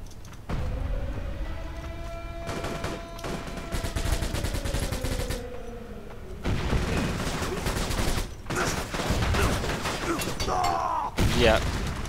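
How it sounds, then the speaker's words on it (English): Gunfire in the first-person shooter Bleedout, with bursts of rapid shots and impacts in bursts separated by short pauses, over in-game ambience. "I'm just shooting people."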